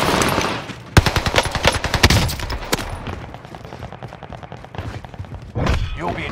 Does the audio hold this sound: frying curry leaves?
no